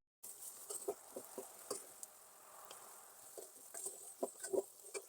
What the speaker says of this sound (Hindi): गोभी को भी अच्छी तरीके से फ्राई कर लिया है